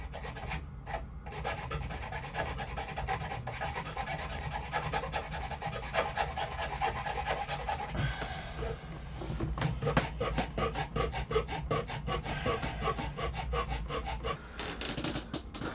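A hand saw cuts through wood during boat repair work, giving rhythmic raspy back-and-forth strokes that are close and steady, with a brief pause partway through before the sawing resumes.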